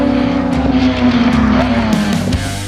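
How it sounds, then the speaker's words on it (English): A race car drives hard on the racetrack at NCM Motorsports Park in Bowling Green, Kentucky, during a Gridlife time attack session, its engine droning loud and close with shifting pitch and a few sharp rises, no voices. "We're going to head out on the racetrack now for time attack."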